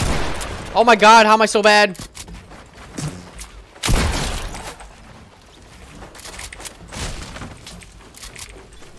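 Gunfire in the video game Fortnite: a sharp burst of shots stands out in the middle, with scattered smaller pops around it, heard under and between a player's excited talking.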